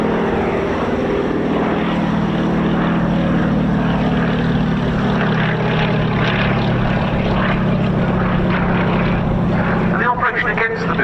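A Fairey Swordfish propeller biplane flying at the RAF Cosford air show, a steady, droning engine and propeller hum that stays loud throughout, with a commentator's voice talking over it.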